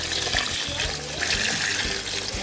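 Tap water pours steadily into a container or pot while cooking pork lauya, a continuous broadband splashing rush that stays loud and close for the whole stretch.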